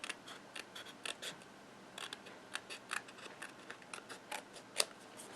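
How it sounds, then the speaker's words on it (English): Small snips trim paper for a handmade card in a run of quiet, crisp snipping clicks, irregular and close, with a sharper cut near the end. "just bring in your snips, angle them underneath the white one, and just trim it"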